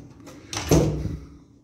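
A hotel room door in a budget inn at Naama Bay, Sharm el-Sheikh, swings shut with a single close thud and latch click, near and brief, in a quiet room.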